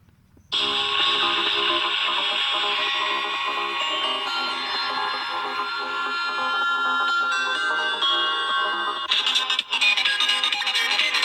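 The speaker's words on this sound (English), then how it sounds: "so let me play some music." Music playing through the built-in loudspeaker of a Samsung Galaxy Note 8 phone, starting abruptly after a moment of quiet and continuing steadily and fairly loud with no talking over it.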